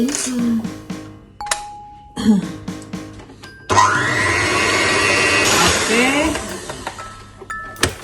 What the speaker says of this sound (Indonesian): Kita kocok sampai mengembang